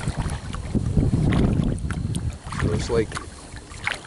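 Wind buffets the microphone in gusts while kayaking across a broad flat of water with lily pads and cattails, a rough low rumble that swells and fades, with someone talking over it.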